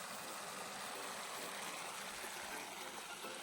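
Water gushing steadily from a farm motor pump into an onion field before dawn, a continuous broadband rushing flow with a faint engine hum underneath.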